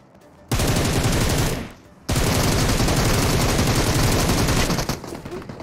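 Gunfire in a video game about power armor comes as two long, loud bursts of rapid automatic fire, close and continuous, with a brief gap between them.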